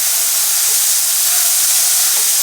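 Pork sausage patties frying in a 10-inch skillet, a steady, loud, close sizzling hiss with no talk.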